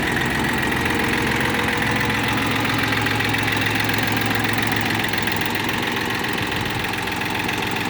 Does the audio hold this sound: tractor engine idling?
yes